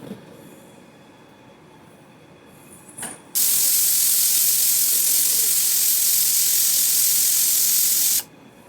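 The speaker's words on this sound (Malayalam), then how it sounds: "കുക്കർ അടച്ച് വെച്ച് ഒരു 5 വിസിൽ വരുന്നവരെ വെയിറ്റ് ചെയ്യുക" A pressure cooker holding potatoes for masala kurma lets out steam: a quiet room, a short knock, then a loud, sustained hiss for about five seconds that cuts off abruptly.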